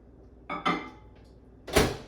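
A bowl of oatmeal set into a microwave at home: a couple of light knocks as the dish goes in, then a sharper clunk of the microwave door shutting, all close and brief with no talking.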